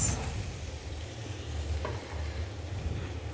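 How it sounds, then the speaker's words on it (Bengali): Pre-fried prawns land in a pan of cooked spice masala and sizzle steadily, a constant close frying hiss with a faint scrape of stirring and no talk. "এবার আমি এখানে আগে থেকে ভেজে রাখা মাছ দিয়ে দেব দিয়ে দিচ্ছি মাছ"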